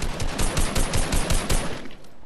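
Fast automatic video game gunfire, a loud close burst of evenly spaced shots that cuts off near the end.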